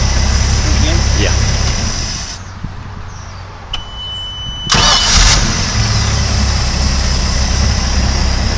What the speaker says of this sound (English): Go ahead, cut it off, start again.